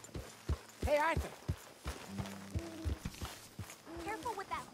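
Horse hooves clip-clop at a walking pace in Red Dead Redemption 2, several distinct close thuds in an uneven rhythm, with voices speaking over them.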